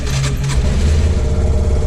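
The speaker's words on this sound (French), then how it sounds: "quand je démarre tout simplement mon moteur" Motorcycle engine firing up and settling into a steady mid-pitched idle rumble, close and fairly loud, with no talking.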